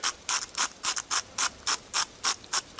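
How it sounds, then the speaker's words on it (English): A copper Zippo lighter lid is ground in a rhythmic back-and-forth motion, making about ten evenly spaced scraping rasps that sound close and fairly quiet, with no voices. "Let me grind it in the lid."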